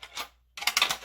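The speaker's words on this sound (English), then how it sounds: "just going to take and cut this off so I have a nice flat spot to work with" Scissors snip through a thin flat Shrinky Dinks plastic sheet in a home craft session, giving two quiet, crisp cuts separated by a brief silence, close and without talk.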